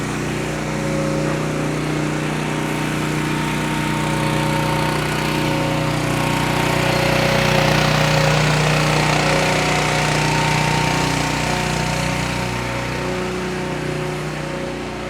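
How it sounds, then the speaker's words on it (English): A pressure washer cleans a pedestrian plaza in New York City, its engine droning loudly and continuously close by, with steady outdoor street noise blended in and no pause throughout. "this is how the city cleans the pedestrian plazas using a pressure washer"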